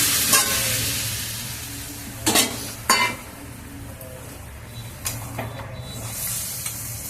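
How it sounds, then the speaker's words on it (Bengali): Prawns cook in a pan as a little water is added, giving a steady sizzle with a few sharp clatters and scraping knocks of stirring spread through the clip. "আমার চিংড়ি মাছগুলো কষানো হয়ে গেছে ভালো করে, আমি এবার একটু অল্প করে জল দিয়ে দিচ্ছি।"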